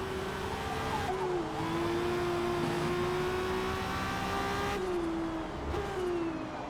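A 1000bhp Toyota Supra races in Forza Motorsport, its engine holding a loud, steady high-revving drone with gear-shift dips and brief rises, continuous and close throughout.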